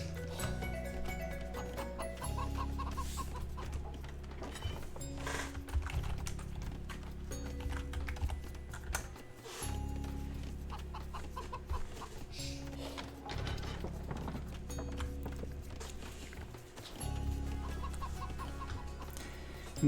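Chickens cluck in a strategy game during an AI tournament match, with small scattered clucks and ticks over a looping low game soundtrack that drops out and returns several times.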